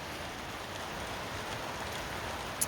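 Steady rain falls outside, a faint, even hiss of drops with no voices.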